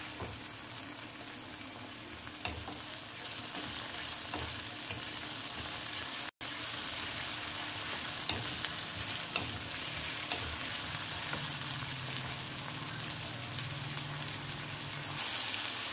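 Chopped tomatoes with a little salt sauté in a hot pan for a cucumber curry, giving a steady, close sizzle and crackle with occasional stirring clicks throughout; no one speaks.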